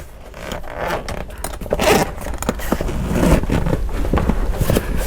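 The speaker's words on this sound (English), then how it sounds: "Under the flap you have another waterproof zip area" Zipper being run along a waterproof zip pocket under the flap of a DSLR camera backpack, a close, continuous scraping rasp with a few quicker pulls, heard alone.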